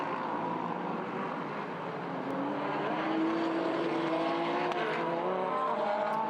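Onboard a Lamborghini race car at São Paulo, the engine roars loud and steady as revs climb and shift, with wind and road rumble, alone with no talk.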